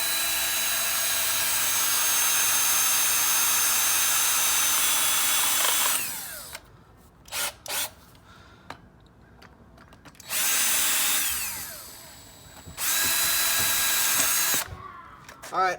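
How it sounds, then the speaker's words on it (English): A power drill bores into a BMW E30 bumper in long loud whining bursts, first one sustained run, then short stuttering pulses and two more extended runs with brief pauses between. "So I'm gonna start drilling this one."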